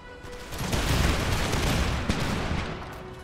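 Musket volley from massed troops in the modded strategy game Total War Empire 2: a dense, crackling roar of many shots merging into one sustained burst that swells quickly and fades over about three seconds.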